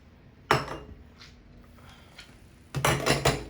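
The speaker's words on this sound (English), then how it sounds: "just getting a spoon" A kitchen drawer being pulled open to get a spoon, with a sharp clatter of cutlery rattling, a brief quiet rummage, then another burst of metallic clinking as the utensils shift, close and fairly loud.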